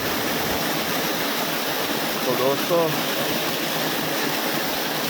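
Water rushes steadily through a broken embankment of the Ghaggar river in Hanumangarh, a loud continuous roar filling the scene while someone speaks briefly over it.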